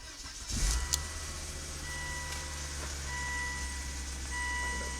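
A car engine cranks and catches after an axle rebuild, with a quick burst at startup settling into a steady idle hum, while a repeating electronic beep chimes in the background.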